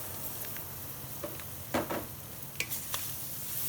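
Vegetables stirred into a hot seafood gumbo roux give a steady low sizzle, with a few soft scrapes and taps of a whisk or spoon against the pan.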